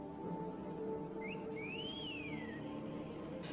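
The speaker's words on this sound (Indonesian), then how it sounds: "Jeremy dikagetkan dengan suara siulan yang begitu kencang" A single rising-and-falling whistle rings out in a forest, brief and fairly distinct over quiet background ambience.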